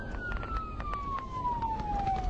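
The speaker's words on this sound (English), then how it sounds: "With red lights and siren blaring" Police patrol car siren from a sheriff's deputy's vehicle responding to a shots-fired call, a loud steady tone sliding slowly downward over a constant rumble of road and engine noise.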